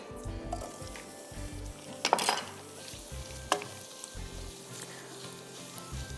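Boiled chana dal and potatoes being lightly sautéed with chili powder and salt in a pan: soft sizzling under stirring, with a couple of sharp spoon-against-pan scrapes and a low background hum.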